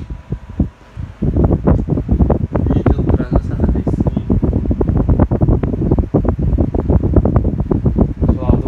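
An Arno Ultra Silence Force electric fan runs close by with a steady, airy whoosh, broken by frequent rapid buffeting thumps from the airflow.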